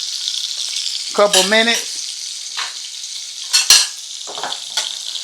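Steak searing in a pan, a constant bright hiss of sizzling fat throughout, broken by a short spoken phrase and a few clinks of utensils against the pan.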